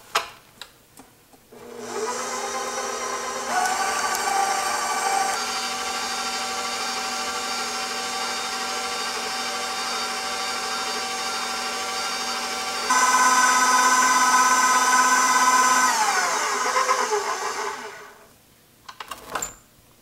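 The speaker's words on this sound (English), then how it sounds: "So now I'll mix all these ingredients until it's smooth." Electric hand mixer whirring steadily through applesauce bread batter, a continuous motor drone that starts after a few clicks, shifts pitch once midway and rises louder near the end before cutting off, close and with no talk.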